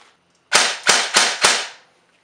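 Four rapid, loud bursts of a JG Mag K airsoft gun firing full auto at about 25 rounds per second, close and crisp, each with a short hissing tail, then silence.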